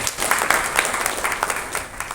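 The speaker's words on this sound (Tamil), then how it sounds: "ஒரு கைத்தட்டல்." Brief burst of audience applause at a product launch event, dense steady clapping from a crowd, fairly close and alone without talk.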